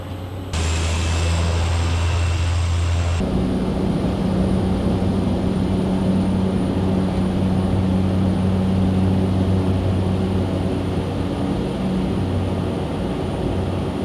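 A 2017 Cessna Caravan single-turboprop plane climbing out over the harbor off Long Beach Airport near 4,000 feet, heard from the cabin as a loud, steady engine and propeller drone with a pitch shift early on.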